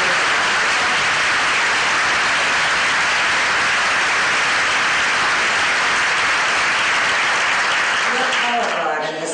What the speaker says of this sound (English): really give a round of applause to your students here in